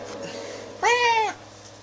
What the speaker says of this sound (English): Little white bastard cat